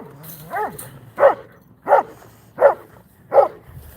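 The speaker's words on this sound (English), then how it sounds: "They're just being really ornery right now, my dogs." Dogs indoors give a short whimper, then four evenly spaced, loud yipping barks about once every 0.7 seconds, close to the microphone with little else in the background.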